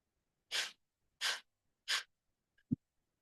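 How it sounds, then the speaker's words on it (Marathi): Three sharp, forceful nasal exhalations of kapalbhati yogic breathing, evenly spaced about 0.7 seconds apart and heard up close, followed by a brief faint thump near the end. "घेतलेला श्वास बाहेर जोरात सोडताना पोटाला आतमध्ये झटका आणि कपालभातीला सुरुवात"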